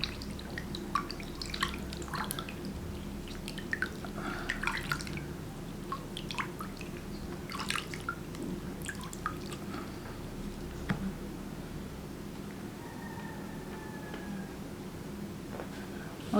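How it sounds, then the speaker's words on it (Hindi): Hands being rinsed with clean tap water at home after applying a homemade facial mask, with soft drips and splashes scattered over a steady low hum and no talk. "अपने हाथ को एक बार साफ़ पानी से भी धो लेंगे।"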